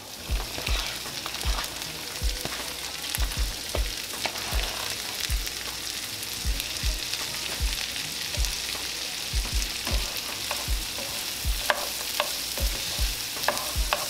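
Bell pepper, mixed sautéed vegetables and fresh corn cut off the cob stirred in a pan, soft continuous sizzle broken by repeated scraping knocks of the spoon against the pan, close and steady, with no talking.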